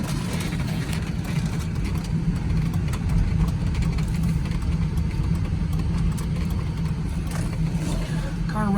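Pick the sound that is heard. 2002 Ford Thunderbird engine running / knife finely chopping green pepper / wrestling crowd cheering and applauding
2002 Ford Thunderbird engine running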